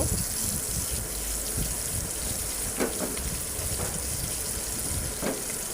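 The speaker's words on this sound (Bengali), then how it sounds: "এখন আমরা পেঁয়াজগুলো ভেজে নিব।" Onions frying in a pan for khichuri make a continuous close hiss, steady and fairly loud, with a few faint crackles and no voices.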